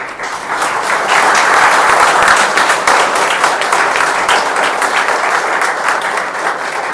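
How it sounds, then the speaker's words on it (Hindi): Students stand and clap loudly as a crowd at an honouring ceremony, with applause swelling within the first second and holding dense and steady to the end. "आप सब बच्चों से एक बार खड़े होकर सर के लिए जोरदार ताली बजा दीजिए"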